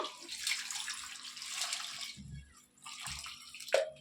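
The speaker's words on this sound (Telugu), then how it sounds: "ఇప్పుడు వాటర్ పోసేసుకొని కుక్కర్ మూత్ర పెట్టేసుకుందాము" Water splashes as it is poured into a pressure cooker in two close pours separated by a short pause, ending with a light clink.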